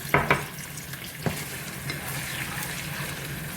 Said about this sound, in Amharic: ምናልባት ነጭ ሽንኩርቱ ሊፈነዳ ይችላል